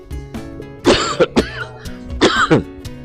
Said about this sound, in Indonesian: Ini agak batuk